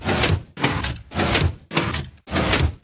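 Minecraft pistons firing before and after a sound update: five loud, even sliding-clunk bursts follow one another in a steady rhythm, close and alone.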